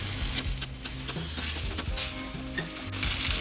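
Sausages sizzling on a hot smoking grill plate outdoors, a steady close crackling hiss running throughout with occasional clinks of a utensil.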